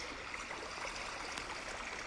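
Murky underwater rushing in the video game INSIDE, a faint, steady wash of water with soft bubbling as a swimmer moves along beneath the surface.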